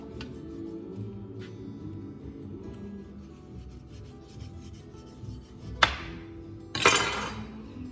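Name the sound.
knife cutting cartilage bone out of a pork butt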